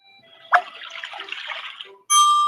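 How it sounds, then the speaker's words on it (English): Water poured from a jug into a bottle: a steady splashing, gurgling pour lasting about a second and a half, close and moderately loud, with a brief click before it and a bright tone right after. "We pour water, one jug full water in this bottle."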